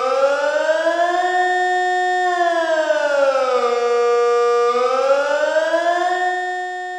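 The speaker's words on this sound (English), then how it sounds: "That's the sound of the annual test of the country's general alert." A Swiss civil defence siren sounds during the annual general alert test, a loud, continuous tonal wail that slowly rises and falls in pitch across several cycles, heard alone with no talk.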